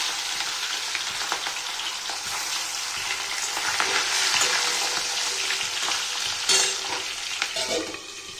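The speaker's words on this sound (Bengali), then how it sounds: "এখন আমি মাছগুলো ভেজে নেব" Fish frying in hot oil for a Bengali macher jhol, a steady close crackling sizzle with dense spitting pops running throughout, loud and uninterrupted with no talking.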